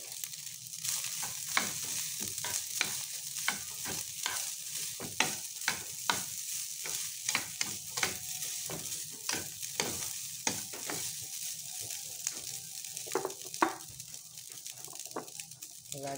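Rice is stir-fried in a hot pan at breakfast time, a steady bright sizzle overlaid with repeated scraping and clacking strokes of a utensil against the pan, close and continuous with no talking.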